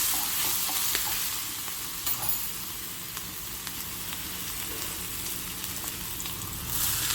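Steady sizzling of ginger-chili paste and curry leaves frying in a pan with occasional scraping and stirring clinks, continuous and fairly close, with no voices.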